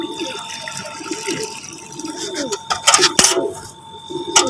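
Plain water, about 1.5 litres, pours into a container for pigeons with a gurgling, splashing flow that swells toward the end, while someone speaks over it.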